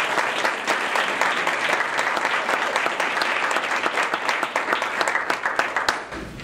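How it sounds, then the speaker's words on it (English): Sustained, dense applause from an audience at a township board swearing-in ceremony, steady and fairly loud throughout with no pause. "Nikki deserves a round of applause."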